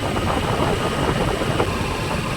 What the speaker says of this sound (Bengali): বাইকের চেনটা হয়তো একটু লুজ হয়ে গেছে বন্ধুরা।